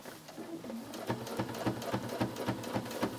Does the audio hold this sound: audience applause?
no